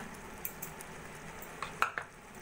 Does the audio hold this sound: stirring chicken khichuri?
yes